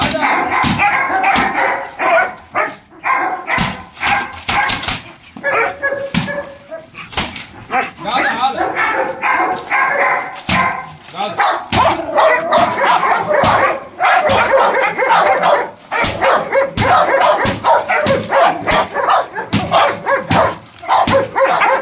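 A hybrid dog brought from Edku for training barks repeatedly in sharp, close bursts, with some yips and whimpers mixed in, while people talk throughout.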